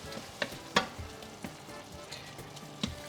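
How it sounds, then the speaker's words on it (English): Garlic sizzles softly in a frying pan with oil while it is stirred, giving a low continuous crackle broken by a few sharp clicks of a utensil against the pan. "And give it a good stir."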